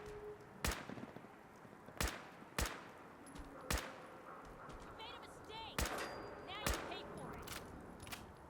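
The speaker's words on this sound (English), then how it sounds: "Who is shooting at me?" Gunfire in Fallout 4: several sharp, loud shots at irregular intervals, some close and some farther off, over a low ambient background.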